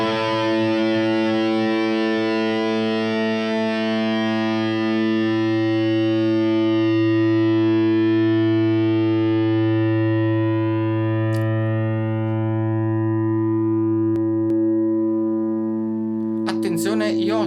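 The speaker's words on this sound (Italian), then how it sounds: "Proviamo adesso su un sustain di una nota più grave" Electric guitar holding one low sustained note through a distorted amp-modelling effects chain, steady and loud for the full length, its upper harmonics slowly fading, with a brief click near the end.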